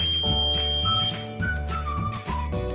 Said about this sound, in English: Following is the new buzzer of 4 LED colors.